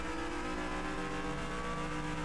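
A toy or play race car drives along steadily, its engine holding a continuous hum with faint rising harmonic whine, close and moderately loud, with no talk over it.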